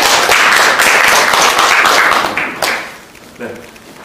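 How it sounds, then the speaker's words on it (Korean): A hall of members applauds the election committee chair at an association's regular general meeting, steady loud clapping that fades out toward the end, with a few last claps trailing off. "금화우 선거위원장님께 감사의 박수 다시 한번 드리겠습니다."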